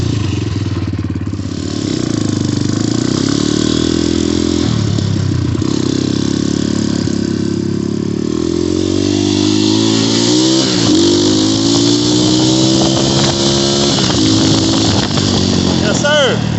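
An Xmotos 250cc motorcycle engine runs loud and close, idling with a steady throb, then revving up and down in repeated rising sweeps.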